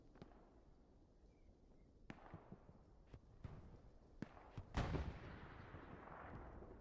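Distant explosions from a bombing run in the World War II shooter Hell Let Loose thud irregularly over a low battlefield rumble, with one heavier, closer blast near the end followed by a lingering roar.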